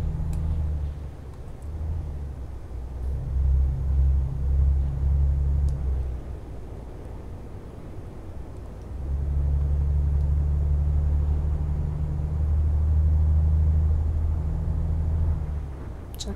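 Low engine drone of a Volvo VNL 780 truck driving in Euro Truck Simulator 2, swelling in two long louder stretches with a quieter lull between, steady and close with no talking.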